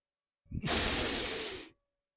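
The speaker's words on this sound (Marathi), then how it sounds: "त्यानंतर श्वास सोडत सोडत" One long, forceful exhalation during a yoga stretch for shoulder pain, a close breathy hiss lasting about a second, with silence before and after.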